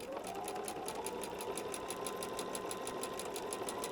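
Sewing machine stitching a patchwork seam, a steady rapid mechanical chatter with an even rhythmic ticking, close and continuous without talk.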